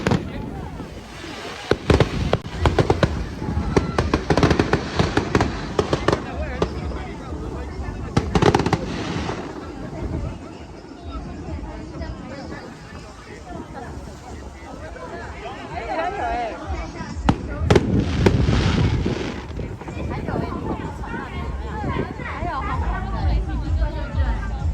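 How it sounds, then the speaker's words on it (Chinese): A fireworks show at Dadaocheng, Taipei, bursts and crackles in irregular clusters of loud pops, with an outdoor crowd chattering and murmuring throughout. "好，赶快继续来欣赏一下这个烟火吧。"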